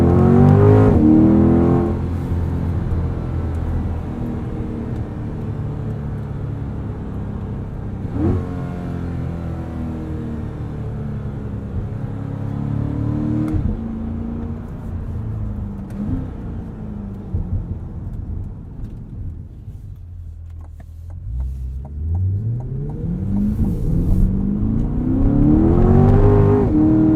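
A mid-engine car is driven in snowy, wintry conditions, its engine revving and accelerating loudly through repeated gear pulls, the pitch climbing and dropping several times, with a deep surge near the end.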